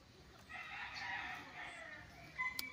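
Chickens in coops on a hedged one-hectare farm lot in Liliw, Laguna, a rooster giving a faint, distant crow lasting about a second, followed by a few soft clucks and clicks.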